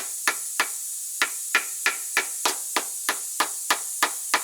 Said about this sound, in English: I generally try to use a rubber hammer to put these in